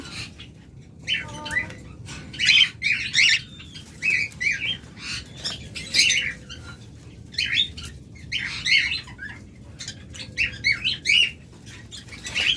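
Caged pet lovebirds, a bright yellow lutino pair among them, chirp and squawk close by in short, repeated bursts with brief quiet gaps and occasional wing flutters.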